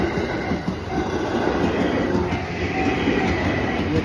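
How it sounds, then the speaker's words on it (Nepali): A train passes close by with a continuous heavy rumble and rhythmic clickety-clack of wheels on rails. Faint squeals rise above the steady roar, and no voices are heard. "ट्रेन चाहिँ आइरह, हामी चाहिँ गइरहेको छौँ।"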